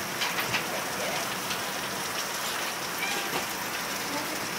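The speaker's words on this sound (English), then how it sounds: "Did this rain wake you up?" Steady rain falling, a continuous even hiss with soft scattered drops tapping on a surface throughout.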